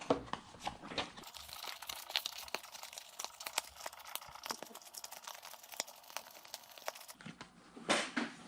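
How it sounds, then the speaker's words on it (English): Foam insert pushed back into a tire, a close run of crinkly rubbing and crunching squeaks in quick irregular bursts, fairly quiet with no talking. "pop the foam back into the tire"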